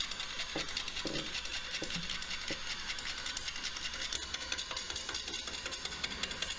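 A wood lathe turns a large, dry cherry burl bowl at slow speed while a gouge cuts against the tool rest, giving a faint, steady whirring hum broken by a few light knocks.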